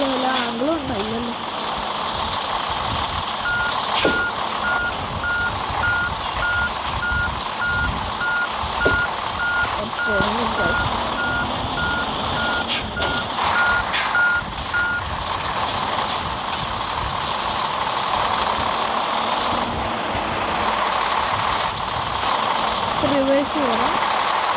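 Truck reversing beeps in the mobile driving game Truckers of Europe 3: a steady run of evenly spaced electronic beeps over a continuous engine rumble, with occasional air-brake hisses and clunks.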